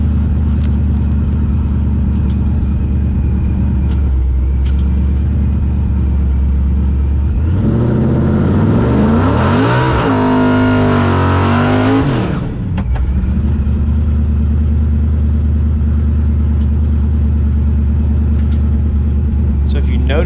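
Drag race car making a pass down the strip, in-car: a loud steady engine drone, then a hard rising surge of revs through gear changes for several seconds before it settles back to a steady roar.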